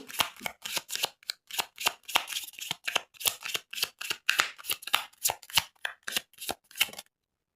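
Tarot cards are shuffled by hand in a quick, steady series of about two dozen crisp riffling snaps, close and clear, then stop abruptly.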